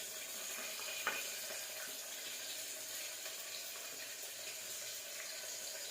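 Onions, green chillies and curry leaves fry in a pan along with garlic-ginger paste, a soft steady hiss with one small clink early on, quiet and continuous with no talking.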